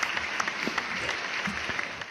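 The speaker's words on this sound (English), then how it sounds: "Round of applause." Applause fills a short stretch of a casual online review show, a steady wash of many hands clapping at moderate level with no voice over it.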